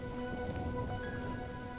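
Rain falls in an audio fairy tale, a soft, steady patter over a faint sustained tonal background, with no voices.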